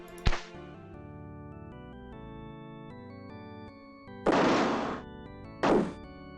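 Sharp whooshing bursts of a firework launch sound effect over a sustained musical tone: a quick crack near the start, then two longer hissing rushes close together toward the end.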